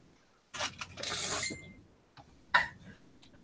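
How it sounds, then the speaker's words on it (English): A few rough, breathy coughs burst out close by, one drawn-out fit followed by a shorter cough after a pause. "Oh man, this freaking cough."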